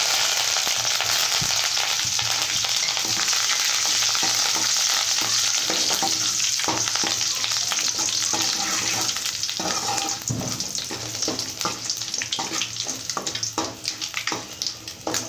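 Dried red chillies, garlic and curry leaves fry in hot oil, a loud continuous close sizzle with occasional stirring clinks that softens slightly toward the end.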